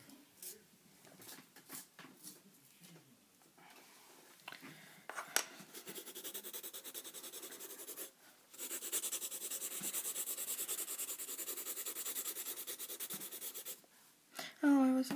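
A pencil being sharpened during drawing, heard as a steady grinding rasp that runs for several seconds at moderate loudness, with brief rubbing and scratching from colored-pencil work before it and a voice speaking briefly.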